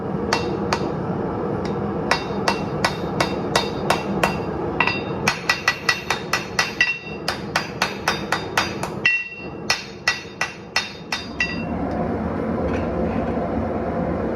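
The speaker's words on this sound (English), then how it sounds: "start forging the tang out" Rapid metallic hammer blows ring out in quick bursts as a Damascus steel knife tang is forged on an anvil, loud and close, with short pauses between rounds of strikes over a low background hum.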